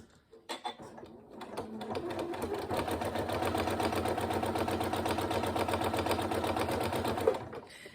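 Sewing machine stitching parallel topstitch lines on a zipped pencil case, a steady rapid mechanical whir that starts after a few brief clicks and runs continuously and close up for about six seconds.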